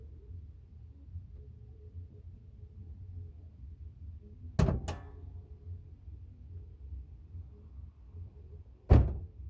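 Two solid thunks of a stock car hood slamming shut over a Mitsubishi 6G74 V6 engine, the first near 4.7 seconds with a quick echo, the second near 9 seconds, over a low idling rumble.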